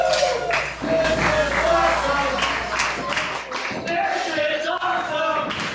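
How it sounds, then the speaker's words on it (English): A wrestling crowd at a live show in Woonsocket chants in a loud rhythmic group roar, with claps and cheers mixed in and a commentator's voice talking over it. "This is awesome chants coming from the crowd"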